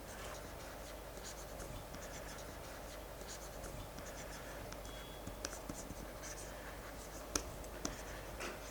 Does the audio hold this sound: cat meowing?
no